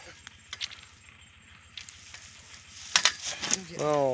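Food fries in a pan with a steady, close sizzle that crackles and pops in small bursts, while a voice is briefly heard at the end.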